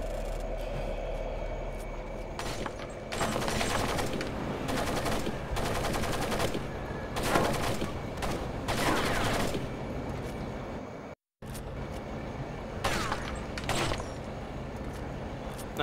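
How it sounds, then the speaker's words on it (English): An enemy fires repeated bursts of gunfire at a shipyard in Komodo, Indonesia, in Splinter Cell: Pandora Tomorrow. The volleys come in several rapid clusters, fairly loud, broken by a brief moment of silence before the shooting resumes. "as soon as this guy's done shooting"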